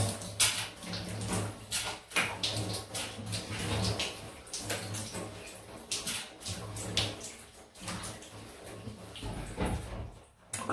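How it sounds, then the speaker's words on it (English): Water running to rinse shaving soap off a face or brush, a continuous splashing flow with small bursts and shifts over nearly eleven seconds, alone without talk. "Takes a while to rinse off."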